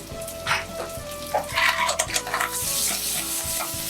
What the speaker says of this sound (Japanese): 砂抜きしたあさりを一気に。